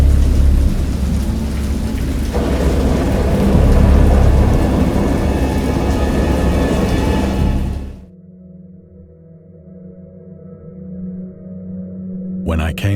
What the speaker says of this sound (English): Of thunder and other tones which nature utters only in her wildest moods.